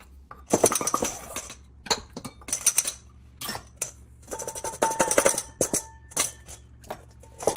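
Dry mix being worked into gingerbread dough in a bowl, with irregular clinks and clatters of a utensil knocking against the bowl, close and fairly loud, separated by short quiet gaps.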